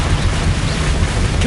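A Confringo blasting spell explodes in Hogwarts Legacy, a loud, broad rumbling blast that fills the whole moment, with some voice mixed in.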